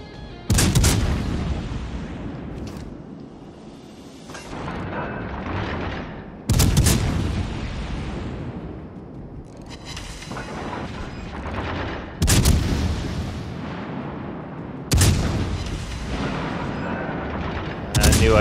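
Naval gun broadsides fire in the World of Warships game, four heavy booming salvos spaced several seconds apart, each followed by a long rumbling tail. Some talk sits under the gunfire.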